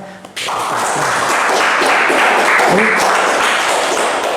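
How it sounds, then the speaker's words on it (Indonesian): Applause from a studio audience at an Indonesian podcast taping, a dense wash of clapping that starts abruptly after a short pause and holds steady and loud to the end. "Tepuk tangan."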